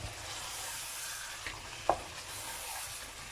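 Mutton karahi sizzles in a pan while being stirred and mixed, a steady frying hiss broken by a couple of brief scraping clinks of the spoon near the middle.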